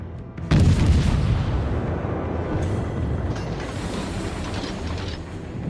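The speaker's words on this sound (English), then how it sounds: "we're gonna send a few shells that way" Naval cruiser guns from a Soviet Tier I cruiser, the Orlan, boom out in World of Warships, one sharp loud blast followed by a sustained rumbling, mechanical wash of ship noise.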